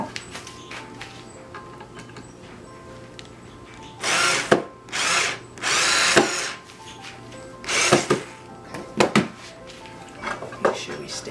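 Power drill driving flat screws into a wooden soap mold, several short bursts of whirring a few seconds apart, fairly close and loud over a faint background.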